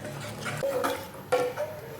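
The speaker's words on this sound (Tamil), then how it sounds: "தண்ணி சேர்த்து நல்லா கிளறி விடுங்க" Ragi soup mixture with vegetables being stirred in a metal pan after water is added, with several clinking spoon scrapes against the pan over a soft watery background.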